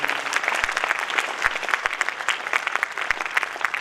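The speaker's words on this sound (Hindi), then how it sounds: "एक बार जोरदार ताली हम बजा करके" An audience applauds at an inauguration ceremony for a Brahma Kumaris centre in Nangloi, Delhi, with dense steady clapping from a crowd filling the whole stretch at an even level.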